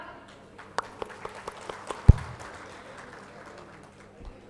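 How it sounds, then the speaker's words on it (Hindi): At a consumer-rights award event, scattered claps sound from a distance, a short string of a few sparse hand claps with one sharp louder thump, then quiet room tone. "तो एक बार आप सभी के लिए जोरदार तालियां"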